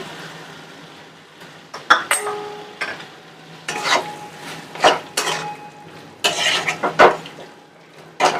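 Chili mushroom being stirred in a pan after salt goes in, with repeated scraping strokes and clinks of a utensil against the pan over a soft sizzle, close and fairly loud.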